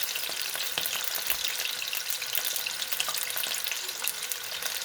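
Beef braciole browning in hot oil in a pan, giving a steady, close, dense sizzle and crackle that holds level throughout with no talking.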